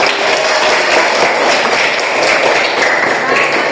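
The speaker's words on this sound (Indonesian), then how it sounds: "Oke, tepuk tangan." Classroom applause from students, a dense broadband patter of many hands clapping steadily and fairly close throughout, with a few voices mixed underneath.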